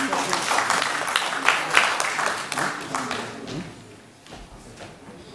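An audience applauds at a formal Korean event honouring a nuclear power pioneer, a dense steady clapping that rises and then fades away after a few seconds.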